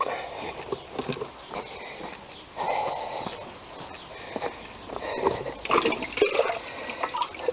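Water poured or running outdoors in a vegetable garden, a splashing, gurgling flow with uneven surges and some handling knocks, close and fairly loud.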